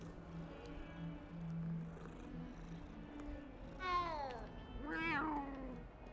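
A cat meows twice in Hogwarts Legacy, two rising, drawn-out calls standing out clearly over a low, steady game ambience.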